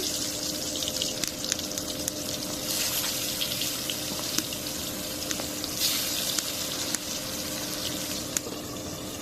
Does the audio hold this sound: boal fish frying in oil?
yes